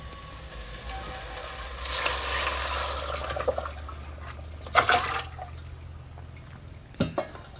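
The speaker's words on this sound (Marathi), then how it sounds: "तर आता आपण ह्यामध्ये आहे ना आपण इकडे पाणी काढून घेतलं होतं ना ते घालूया" Set-aside water goes into fried masala for Kolhapuri tambda pandhra rassa chicken cooked on a wood-fired chulha, a rushing pour swelling into loud sizzling and bubbling, then fading with a few sharp clinks near the end.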